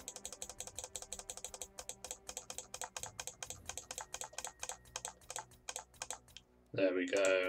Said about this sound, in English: Sorry about the amount of clicking,